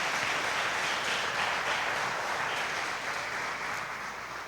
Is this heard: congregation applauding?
yes